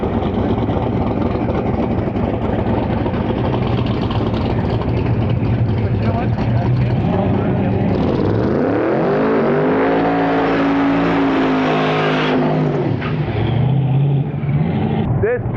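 Drag racing truck in the big or small tire class launching down the quarter-mile at Interlake Dragway, a loud engine roar rising in pitch through the gears, heard under a commentator's voice.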